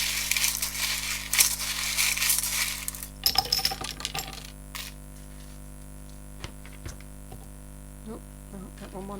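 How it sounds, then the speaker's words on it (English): Small charms rattle and clink together as they are shuffled for a pick-a-card reading, a busy scattered jingle for a few seconds, then sparse light taps and clicks over a steady electrical hum. "Now I will shuffle my charms."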